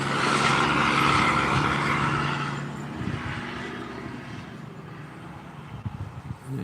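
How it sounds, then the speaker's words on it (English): Trucks pass by on a busy highway in Virginia. A loud, broad roar swells close by and then fades into a quieter, rumbling traffic wash, with no one speaking. "These trucks are coming by a lot."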